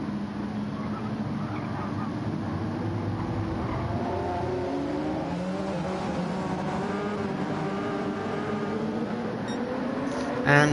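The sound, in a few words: LMP1 race cars accelerating at Le Mans start, racing video game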